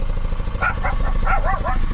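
A dog barks several times in a quick, uneven series, moderately close, over a constant low engine-like hum.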